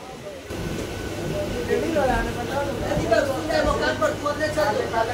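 A local train rolls into Konnagar station on the Howrah–Bandel line, a continuous rumbling ride with rising squeals and murmuring passenger chatter throughout.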